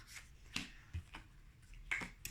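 Tarot cards are laid down and drawn in a quiet room, giving a few soft, separate shuffling and slapping taps spread over a couple of seconds, faint and close with no voice.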